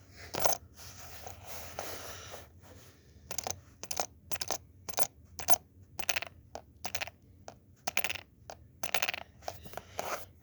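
A male Penny cicada rubbing its wings against ridges, set on a hard surface, gives sharp, dry clicking and rasping bursts in an irregular run of short pulses, close and fairly loud, with no talk.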